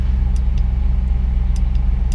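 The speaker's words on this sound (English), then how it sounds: "I just fired this vehicle up." An older vehicle's engine idles steadily just after being started, a close, loud, even low rumble with a regular pulse and no talking.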